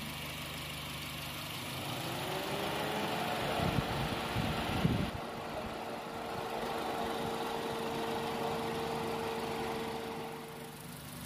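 A Honda Jazz engine idles steadily during coolant bleeding after a new radiator upper tank was fitted, a continuous low hum with a brief burst of clattering knocks partway through.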